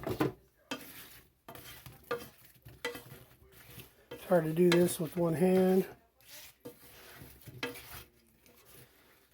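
Chicken wings being stirred in sauce in a pan, giving soft, wet scraping and clinking under intermittent nearby talk, with a brief hummed tune in the middle.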